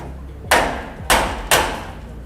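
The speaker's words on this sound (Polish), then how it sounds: "Dobijamy młoteczkiem" Three sharp knocks of a small hammer tapping wooden wedges while fitting a concealed door frame, loud and close, spaced about half a second apart.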